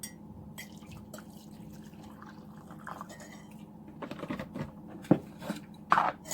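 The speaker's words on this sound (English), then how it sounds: "the last one we need to add is half a cup of hot water" Hot water poured into chocolate cake batter in a bowl, a soft liquid trickle with a few light drips and clinks of utensils against the bowl, close and fairly quiet, with no talking.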